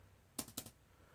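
Two quick, crisp clicks from a computer keyboard, close and distinct, over a faint background hiss.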